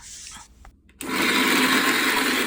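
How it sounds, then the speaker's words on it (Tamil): A Vidiem mixer grinder jar starts up after a brief quiet pause and runs loud and steady at close range, a dense whirring grind that continues without talk. "மிக்ஸி ஜார் ஓடுற சவுண்டில் நம்ம கண்டுபிடிச்சிடலாம் அது நல்லபடியாக அரைஞ்சிக்கிட்டு இருக்காங்கன்ட்டு"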